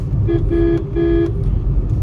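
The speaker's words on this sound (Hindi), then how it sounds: "हॉर्न भी काफ़ी डिसेंट है" A 2021 Maruti Suzuki Swift sounds its horn in two short, steady honks, close and clear over the low rumble of the car driving along a rough patch of road.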